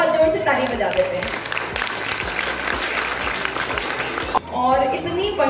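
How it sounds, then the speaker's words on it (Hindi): A school audience at Yuganter Public School claps loudly for the children. The applause is full and sustained for several seconds, and a speaker talks just before it starts and right after it stops. "बच्चों के लिए एक बार हम लोग सब बहुत जोर से ताली बजा देते हैं"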